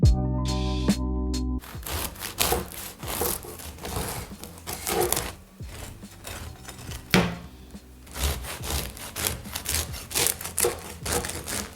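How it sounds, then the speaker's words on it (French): Knife cutting through the crusty loaf of a freshly baked yeast-free Irish soda bread, giving repeated close crackling, scraping crunches of crust in steady sawing strokes after a brief opening tone. "je vais vous découper quelques tranches pour que vous écoutiez le son de la croûte"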